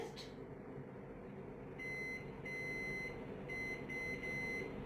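A microwave oven hums steadily at low level with faint repeated electronic tones in its later half, while someone speaks quietly nearby.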